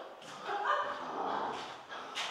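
A small dog yips and barks a few times at close range on a bathroom renovation site, the short sharp calls scattered over a couple of seconds with no talk.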